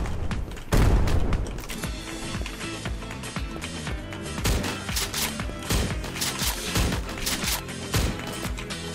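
Grenade blasts and gunfire from the 2D battle royale web game surviv.io, with a loud boom near the start followed by repeated bursts and thuds over a busy game soundtrack.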